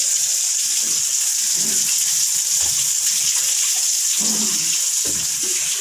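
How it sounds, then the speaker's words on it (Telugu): Water pours and gushes steadily with a bright, continuous splashing hiss, close by and uninterrupted for several seconds. "నీళ్ళు పోస్తున్నారు."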